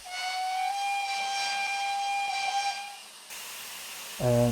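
Steam locomotive whistle from the J70 train simulator game, a long steady shrill blast with hissing steam, then a rougher hiss and a short heavy mechanical burst at the end.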